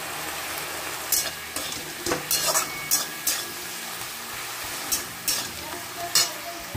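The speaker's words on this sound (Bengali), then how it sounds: "শাকটাকে পেঁয়াজ রসুনগুলোর সঙ্গে অল্প ভাজা ভাজা করে নিয়েছি" Lafa greens fry in a pan with onion and garlic, a soft steady sizzle broken by intermittent sharp stirring scrapes and clinks of a utensil, close up and without speech.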